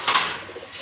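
A short, close pigeon coo, opening with a brief breathy burst that fades into a soft low murmur, rises from birds at a pigeon market in Gollamari, Khulna.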